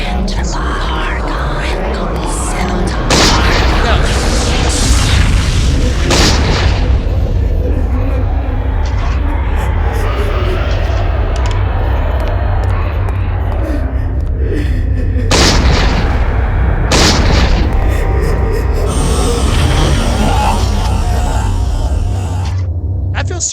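Enchanted guns fired in Eternal Darkness: Sanity's Requiem, with heavy booming shots at intervals over a loud rumbling game backdrop and soft voice-like murmurs.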